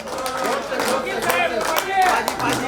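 Audience applause at a staff get-together for a bus depot in Bhiwandi, a steady patter of many hands clapping close by and fairly loud for the whole stretch, with no break.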